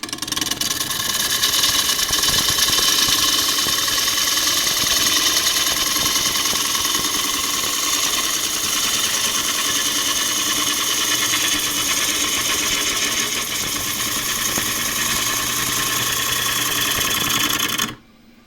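A wood lathe runs steadily for about eighteen seconds, a loud continuous motor hum with a gouge working a bowl profile, then cuts off abruptly at the end.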